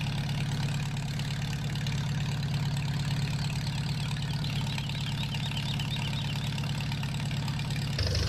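A steady, low tractor engine idles without letup in a farming video game, a constant droning rumble with a faint mechanical rattle, close and unchanging throughout.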